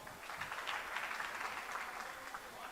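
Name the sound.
audience applause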